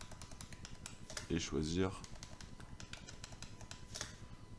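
Computer keyboard keys clatter steadily in quick, close taps during a spreadsheet lesson. Someone speaks French briefly partway through while the typing continues.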